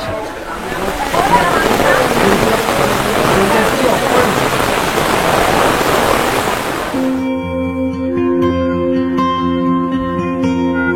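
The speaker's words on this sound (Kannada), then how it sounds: "ಸಖತ್ತಾಗಿದೆ ಮಳೆ." Loud, dense roar of heavy rain pouring steadily for several seconds in the Hiranyakeshi protected area near Amboli, Sindhudurg, Maharashtra, then cutting off abruptly into music.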